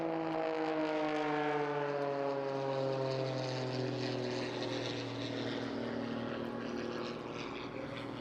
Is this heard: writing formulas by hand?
no